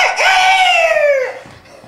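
A stage actor imitates a rooster with a loud, close vocal crow, one long rising-then-falling call lasting over a second before trailing off into quiet room noise.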